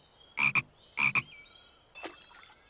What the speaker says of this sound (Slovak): Neskôr z nich budú žaby.